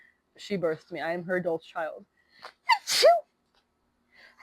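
A single sharp, close sneeze bursts out after someone speaks calmly in a quiet room, followed by a short soft breath.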